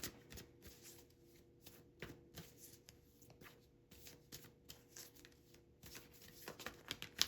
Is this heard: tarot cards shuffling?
yes